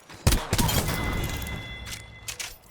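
Gunfire in the battle game Apex Legends: a burst of loud, close shots and impacts with a shattering crack, trailing into a ringing decay and a couple of fainter distant pops.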